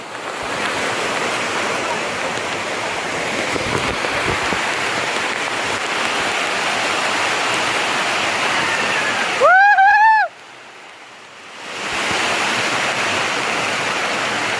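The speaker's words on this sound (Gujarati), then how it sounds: "ભાઈ જોરદાર વરસાદ છે." Torrential monsoon downpour and flowing water in the Girnar hills, Junagadh: a loud, continuous hissing roar, interrupted around the middle by a brief warbling tone and a short quieter gap before the rain noise swells back.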